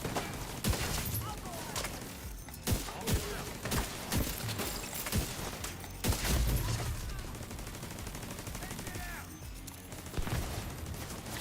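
Enemy gunfire from a distance in The Division 2, heard as repeated cracking bursts and rattling volleys amid dense combat noise, with brief voice lines between shots.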